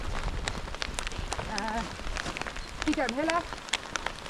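Rain falls steadily on surfaces outdoors on a Balkan mountain hike, a soft continuous patter with scattered drops, while people talk briefly over it.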